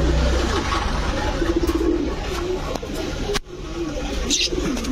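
Pigeons at a pigeon seller's shop, among fancy breeds like Budapest and Shahranpuri, coo in low repeated throaty notes close by, over a busy background with brief chirps and a sharp knock partway through.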